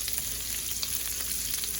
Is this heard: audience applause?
no